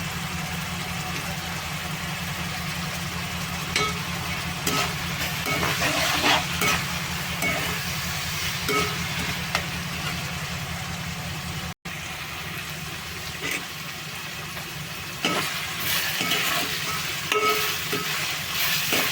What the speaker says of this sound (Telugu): ఉల్లిపాయలు వేగనిద్దాం. ఉల్లిపాయల్లోనే కొంచెం పసుపు,